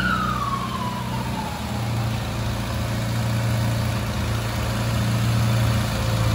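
A car engine runs steadily at about 2000 RPM during an engine condition and oil pressure check, a continuous low hum with a faint whine sliding downward at the start.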